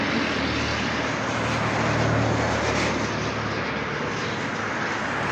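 A helicopter passes overhead, its broad, steady rotor and engine rumble loud and continuous, swelling slightly near the middle before easing off, with no voices over it.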